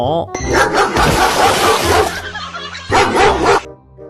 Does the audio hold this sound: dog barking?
yes